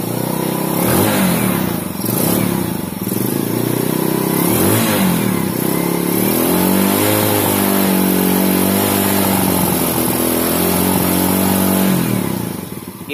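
A Yamaha Vega R motorcycle engine, freshly fitted with a new piston, revs up and down repeatedly in a series of throttle blips, loud and close, with no talking over it.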